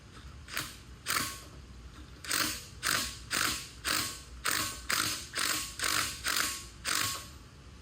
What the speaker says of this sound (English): we're going to try to slide this out with this. This is actually a suspension puller.